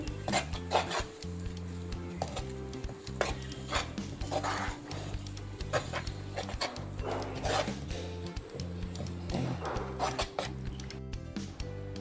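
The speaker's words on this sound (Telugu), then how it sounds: "ఇప్పుడు మళ్ళీ మొత్తం కలుపుకోవాలి." A sweet sago mixture with milk powder and cardamom powder being stirred, repeated rhythmic scraping and rubbing of a spoon against the pan that comes in regular strokes across the whole stretch, close and fairly loud, with no talk.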